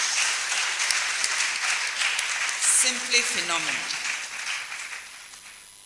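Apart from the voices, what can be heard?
audience applause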